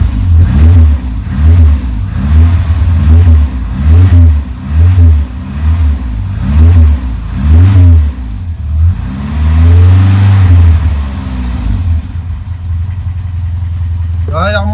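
An engine idles low and unevenly after its carburettor is reassembled, pulsing in a steady loping rhythm with brief blips, loud and near, before settling to a smoother idle.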